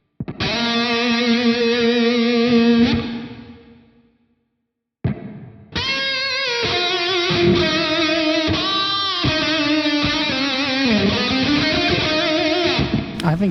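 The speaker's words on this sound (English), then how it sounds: "like a room kind of reverb" Heavily distorted electric guitar through a This Heavy Earth Flesh Rot death metal amp sim with room-style reverb: loud sustained chords ring and fade into a silent gap, then a riff with chugging notes and bends resumes.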